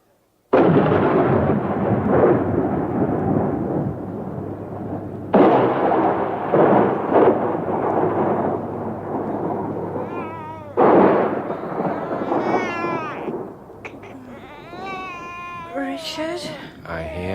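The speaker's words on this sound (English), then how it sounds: "Oh, the storm must have woken him." Thunder from a storm in a radio horror drama breaks out in three loud, sudden crashes that rumble away, followed by wavering cries toward the end.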